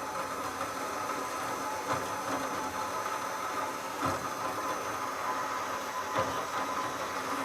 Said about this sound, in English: I'm using a pretty coarse saw blade and it's cutting pretty quickly.